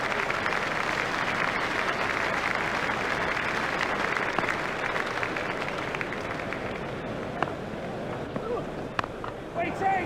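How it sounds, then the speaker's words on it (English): Virtual cricket crowd in EA Sports Cricket 2002 applauding a batsman's half century in an India vs Australia test match, a steady dense roar of clapping and cheering that fills the whole stretch under commentary. "Crowd are standing to applaud him."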